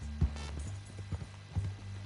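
Horse hooves clip-clop in Red Dead Redemption 2, a few soft, unevenly spaced footfalls over a low steady background hum, quiet and without speech.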